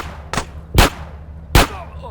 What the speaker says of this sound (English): I'm going to use my pistol.